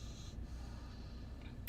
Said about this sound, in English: you heard my grandson breathing deep